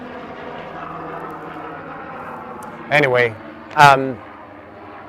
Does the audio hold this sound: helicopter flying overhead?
yes